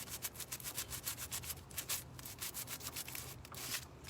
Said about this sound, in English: It's metal, but I'm sanding the paint off of it.